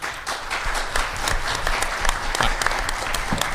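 Audience applause at a conference, a steady burst of clapping from a crowd filling the hall, dense and fairly loud throughout.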